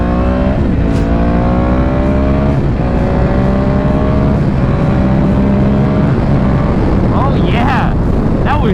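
An older Yamaha R1 motorcycle with a crossplane engine revs hard and climbs through several gears, each upshift followed by rising pitch, with heavy wind noise rushing over the microphone.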